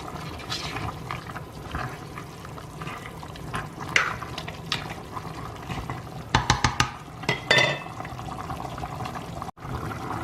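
Chicken curry (Thai om gai) bubbling and simmering in a pot, with occasional stirring clatters and louder pops, close by and without talk.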